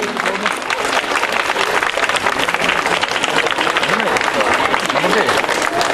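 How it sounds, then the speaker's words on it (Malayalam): Audience applause fills a school prize ceremony as a house trophy is presented at St Michael's UPS, Michaelgiri: dense, steady clapping from a large crowd throughout, with an announcer's voice faintly underneath. "എല്ലാവരും ഒന്ന് കൈയടിച്ച് പ്രോത്സാഹിപ്പിക്കും."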